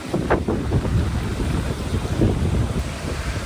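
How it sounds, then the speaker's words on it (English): Strong wind buffets the microphone in a steady, loud roar with gusting swells, heard on a cycling route through flat country near Palmerston North, New Zealand. "I'm glad I'm not cycling today in this wind"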